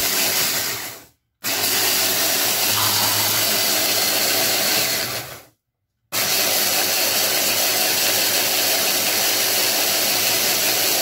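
An electric grinder whirs loudly and steadily as it grinds spices to a fine powder for sellou, cutting out briefly twice before starting up again.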